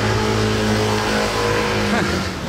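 A Bugatti Veyron Soleil de Nuit engine roars and accelerates close by, its rising drone holding strong with a pitch sweep near the end, loud and continuous throughout.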